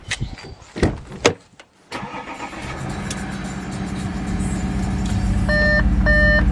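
An Audi SQ5 starts up and runs, with a brief starter crank and bangs, then a steady close engine drone that builds slightly, with a few electronic beeps near the end.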